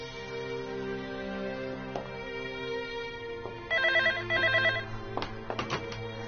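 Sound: telephone ringing

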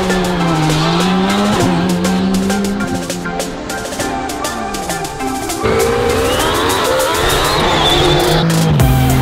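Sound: saloon track day cars driving up a hill climb

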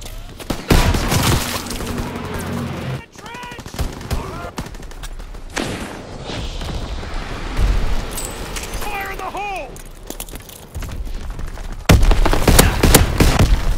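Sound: gunfire in Call of Duty WWII video game

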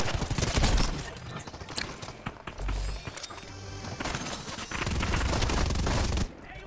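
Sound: gunfire in the video game Fortnite

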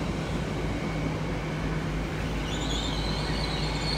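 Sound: IET class 802 train at Exeter St Davids station

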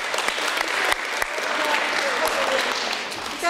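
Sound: audience applause at a concert

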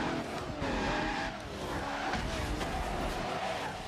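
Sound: car tires skidding in Project Gotham Racing 2 video game

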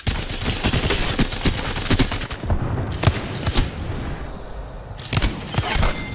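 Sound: gunfire in a video game

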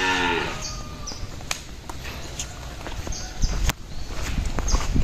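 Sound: cow mooing

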